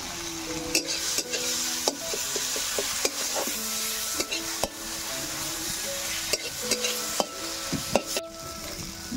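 Cumin powder, tomato and salt sautéed with spices in a pan while cooking in a village kitchen: a steady close sizzle with repeated clinks and scrapes of a spoon stirring against the pan, no talking.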